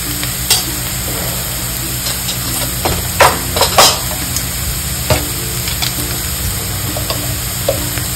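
Spices tipped into hot oil for a soybean paratha masala sizzle steadily as a spoon stirs and scrapes the pan, with a few sharper clinks and bursts standing out over the constant frying hiss.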